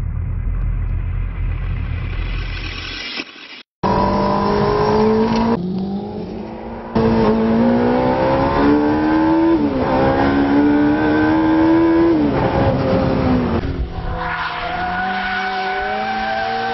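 The hybrid engine of a 2013 Jaguar C-X75 supercar prototype revs loudly and up close, climbing and dropping in pitch through repeated surges, with tire-skid noise and a brief cut near the start.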